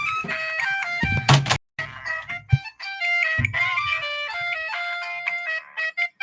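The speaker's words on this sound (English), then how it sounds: "My phone was ringing." A melodic electronic phone ringtone plays a repeating tune up close, broken by a few thumps and handling knocks.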